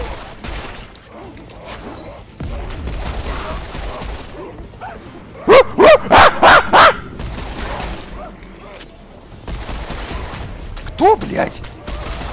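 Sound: gunfire from a video game

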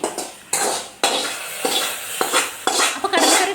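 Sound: tempering spices poured into curry

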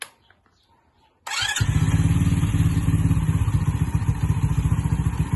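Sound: motorcycle engine idling to warm up

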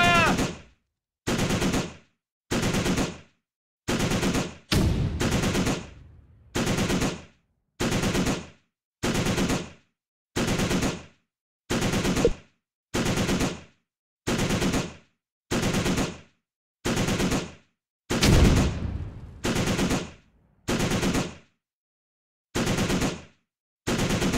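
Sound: machine gun fire in Close Combat video game

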